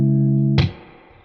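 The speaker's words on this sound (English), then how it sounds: "Now, this is coming straight from the amp." An electric guitar is recorded straight from a Boss Katana amp: a sustained chord rings for about half a second, then a sharp strum attack decays into a quieter tail.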